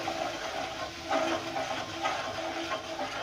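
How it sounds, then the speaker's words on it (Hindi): Chillies, turmeric and salt sizzle in a pan with fried garlic and ginger for chana dal, a steady close hiss with faint crackles. "अब मैं इसमें ये मसाले, मिर्चें, हल्दी और नमक ये डाल दूँगी और इसको भून लूँगी"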